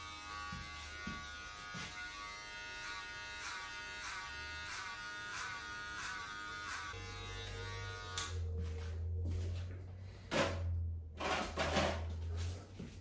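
Electric hair clippers running close by during a self haircut, debulking hair: a steady buzzing hum that roughens and cuts in and out as the blades bite into the hair, with brief pauses.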